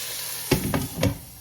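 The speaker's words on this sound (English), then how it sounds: "I'm also gonna throw some butter in with the salmon." Salmon fries with butter in a pan, giving a soft, steady sizzle with a few brief louder spits and crackles, close by.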